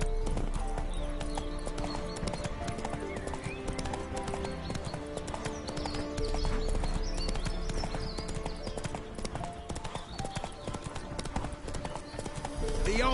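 Hooves trot in a steady, brisk rhythm as a horse is ridden in The Witcher 3, loud and continuous beneath a low hum, with voices talking over it.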